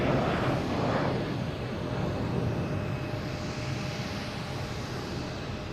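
A Delta Embraer E175 jet airliner takes off from Boston Logan Airport, a steady broadband engine roar heard from a distance that holds constant throughout, slightly stronger at the start.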